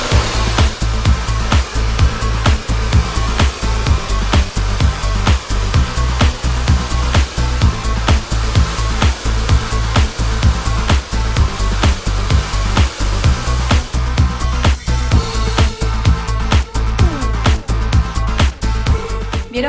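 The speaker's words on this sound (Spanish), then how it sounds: "pasamos al secado" A hair dryer dries freshly oiled hair with a steady, loud blowing whir. The sound pulses rhythmically throughout as the airflow is moved through the hair.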